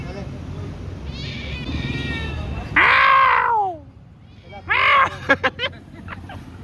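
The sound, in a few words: cat meowing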